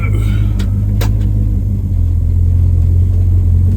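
A 1958 Dodge Forward Look with a big block Mopar V8 and Holley Sniper fuel injection pulling away on a cruise, a loud steady low engine rumble close up, with a few brief clicks near the start.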